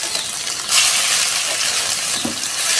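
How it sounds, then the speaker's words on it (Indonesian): Ground spice paste hits hot oil in a frying pan and bursts into a loud, steady sizzle that carries on to the end, with a brief stir or scrape partway through. "Kemudian kita akan tambahkan sedikit minyak. Setelah ini kita akan masukkan bumbu yang sudah tadi kita haluskan."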